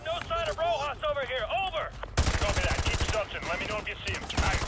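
Gunfire in the Modern Warfare 2 Remastered campaign, with dense bursts of rapid automatic shots that grow louder partway through, backed by game music and effects.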